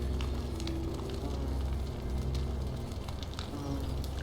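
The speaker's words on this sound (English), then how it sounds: "Bunch of wasps." Wasps in The Forgotten City, a video game, buzz as a dense steady drone close by, running without a break under a low background hum.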